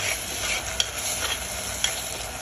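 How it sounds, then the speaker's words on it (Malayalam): A spoon stirs a cooking dish in a pan, giving a continuous close sizzle with a couple of sharp scrape-and-clink accents, no voices over it. "ഇനി എല്ലാം കൂടി നന്നായി ഒന്നും കൂടി ഇളക്കി കൊടുക്കാം"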